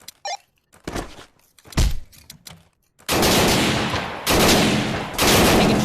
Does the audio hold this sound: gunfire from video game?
yes